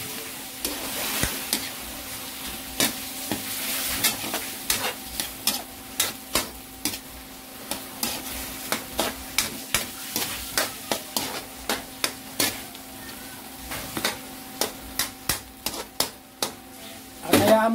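Sotanghon glass noodles and chicken fry in a pan just after soy sauce goes in, with a steady low sizzle under a regular series of sharp scraping and clacking stirring strokes, ending in a louder burst.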